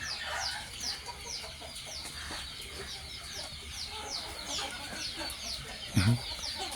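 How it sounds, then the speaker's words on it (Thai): A white chicken clucks repeatedly on a rural farm during flooding, near and fairly steady, with birds chirping throughout and a short louder thump near the end. "ไก่ตัวไก่ขาวก็สนุกสนาน"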